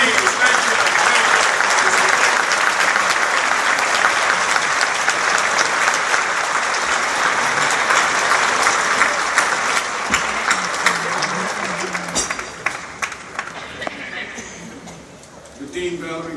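Sustained applause from a large audience at a 2014 medical school commencement ceremony, steady and dense for most of the stretch before thinning into scattered claps near the end.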